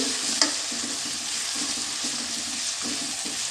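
Egg masala base with ginger-garlic paste frying in a pan, a low continuous sizzling hiss with one sharp knock early on and soft regular stirring scrapes, close and steady, no voices.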